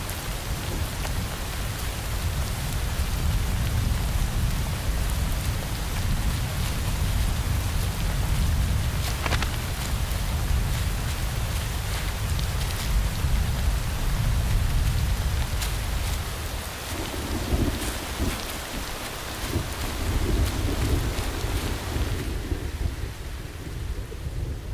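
Heavy rain shower on the African savanna, a dense continuous roar of downpour with low rumbling beneath it, loud and steady, easing into lighter patter near the end.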